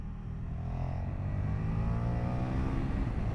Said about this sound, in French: Et le souffle du moteur, le souffle du dragon, comme disait l'autre, est incroyable.